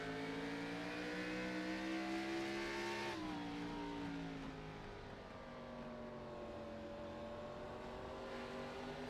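A NASCAR Xfinity race car at Kern County heard from on board heading into turn one, its engine note dropping sharply as it lifts for the corner, then holding a lower steady drone.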